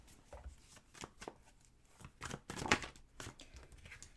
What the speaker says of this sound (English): let's go ahead and pull some cards for you guys to see what else wants to come through